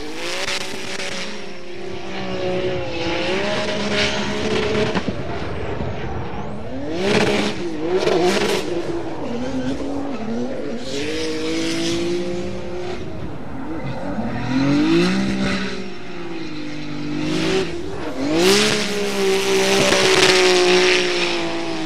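A Nismo Z drift car races in a Formula Drift event, its engine revving hard through rising and falling shifts. Tires squeal in long screeching bursts, loud and close, and a second car roars in tandem.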